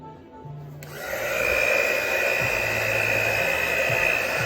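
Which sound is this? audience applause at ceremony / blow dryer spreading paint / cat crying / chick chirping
blow dryer spreading paint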